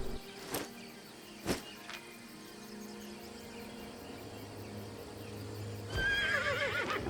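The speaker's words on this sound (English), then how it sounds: "Let me get my horse so I can ride around and show you." A horse in the online game Albion Online neighs loudly near the end, after a couple of sharp clicks and thumps, with a faint insect-like chirping and buzzing ambience running steadily underneath.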